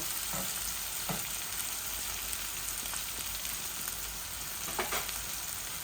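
Pangas fish bhuna with green chillies and tomato sizzles in a pan, a continuous frying hiss with a few sharp clicks of a spoon stirring at intervals, no talk.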